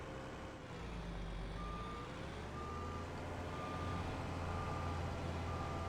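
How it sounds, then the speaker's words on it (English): A heavy logging truck in Farming Simulator 22 strains to drag a whole tree trunk, its engine droning steadily and loud throughout while a repeated electronic beep chirps over the top at regular intervals. "Imagine the amount of strength these trucks have. Like pulling that whole trunk is insane."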